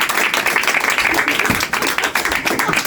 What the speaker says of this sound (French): Aux applaudissements du public